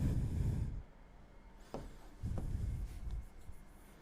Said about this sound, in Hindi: जो भी अपने ने किया है वो लिखते हैं।